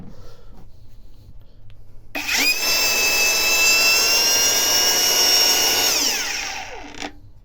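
A Procraft PGA 20 angle grinder spins up sharply to a loud, steady high-pitched whine for about four seconds, then winds down as it is switched off, close to the microphone with no speech.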